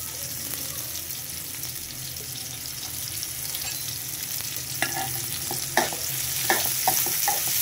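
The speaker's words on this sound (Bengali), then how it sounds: "পেঁয়াজ, লবণ আর তেল দিয়ে পেঁয়াজটাকে একটু নরম করে ভেজে নেব।" Chopped onions frying in oil with salt hiss steadily in a pan, joined toward the end by a few distinct clicks and scrapes of stirring, close and moderately quiet.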